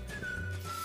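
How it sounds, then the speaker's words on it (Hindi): A toy balloon whistle from a snack packet gives one short, steady, near whistle tone, heard alone. "गुब्बारे वाली सीटी"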